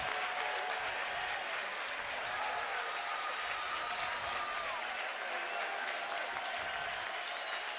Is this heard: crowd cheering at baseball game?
yes